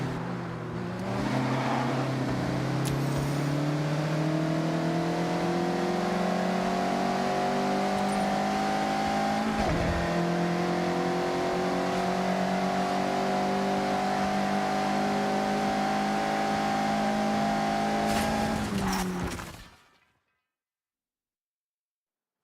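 A Mazda MX-5 racing in Forza Horizon 6, its engine droning loudly at high revs with pitch climbing through gears, a brief dip around mid-run, then cutting off abruptly to silence near the end.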